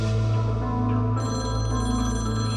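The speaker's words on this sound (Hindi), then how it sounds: "तुम्हारे RJ मारूफ अली का फोन आ गया। उठाओ फोन" A telephone rings in a Pakistani TV drama scene, with a steady repeating electronic ring that holds clear and close throughout, without any talk over it.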